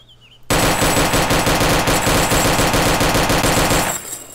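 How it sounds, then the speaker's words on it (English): Rapid automatic gunfire from the video game DayZ hammers out in a loud, continuous burst of evenly spaced shots lasting about three and a half seconds, then cuts off. "Gonna take shots."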